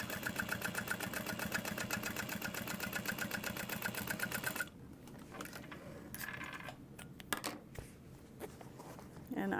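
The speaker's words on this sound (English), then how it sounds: "then just sew the bottom on" A home sewing machine stitches the bottom onto a mini backpack with a fast, steady mechanical chatter. After about four and a half seconds it stops, leaving quieter handling clicks and rustles.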